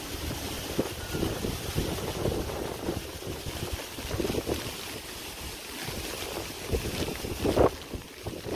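Strong wind roars steadily on a rainy day in a Bangladeshi village during the rainy season, with gusts rising and falling and buffeting the microphone throughout.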